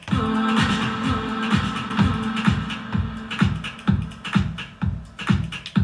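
A loud, pulsing electronic beat washed in reverb, the kicks and synths trailing off into a spacious echoing tail.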